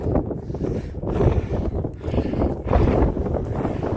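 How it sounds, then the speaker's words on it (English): Gusty wind sweeps across an exposed hillside near a summit, buffeting the microphone in rising and falling surges of rough, rumbling noise. "the wind's getting up here, as it invariably does"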